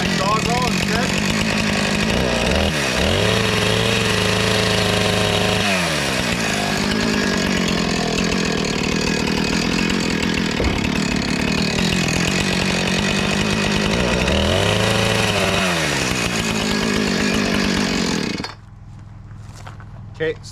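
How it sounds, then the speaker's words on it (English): A sawzall reciprocating saw cutting a wooden ridge beam at night on an off-grid cabin build in the Northern Rockies, loud, rough and continuous with shifting pitch, then stopping near the end as voices continue. "Want me to clean that up with my sawzall instead?"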